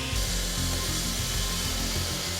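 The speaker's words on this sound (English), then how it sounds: "Once the PCCP is exposed, specialized saws are used to cut through the pipe." A specialized saw cuts through PCCP concrete pipe during a pipeline repair, producing a loud, steady grinding roar. The low end carries a rough, pulsing rhythm and there is no talking.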